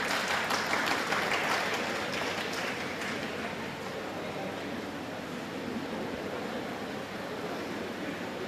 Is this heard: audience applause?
yes